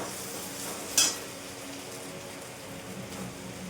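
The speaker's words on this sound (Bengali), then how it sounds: "মশলাটা ভাজা হয়ে গেছে এবার মাংসগুলো তুলে দেবো মশলাটার মধ্যে" Mutton pieces dropped into frying masala in mustard oil, a sharp hiss that flares up once, then settles into a steady, rain-like sizzle with no talking.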